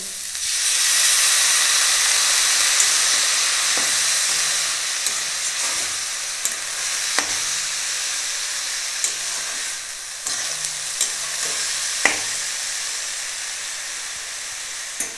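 Water poured into a pan of spiced fried banana flower sets off a loud, steady hiss of sizzling steam that fades slightly over time, punctuated by small sharp clicks and pops, close up with no talking.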